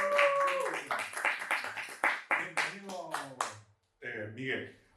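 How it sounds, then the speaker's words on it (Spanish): A few scattered claps from a small audience welcoming a guest on an educational show, short and uneven, mixed with someone talking over them before a brief pause. "un aplauso, por favor"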